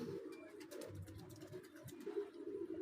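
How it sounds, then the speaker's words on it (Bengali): Pigeons cooing nearby in a soft, low, repeated murmur, with faint outdoor background and no talk. "এই যে পায়রা আসছে।"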